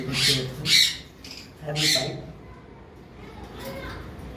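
Caged cockatiels at a home bird sale let out several shrill, close squawks in quick bursts, then fainter calls trail off. A person talks nearby.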